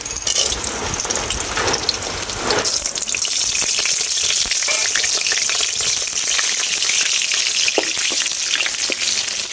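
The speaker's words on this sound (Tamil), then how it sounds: "சீரகம் நல்லா பொரிஞ்சிருச்சு." Cumin seeds, with pepper and fenugreek, spit and crackle in hot oil for a village-style fish curry, a loud, dense, continuous sizzle with scattered pops and no talking.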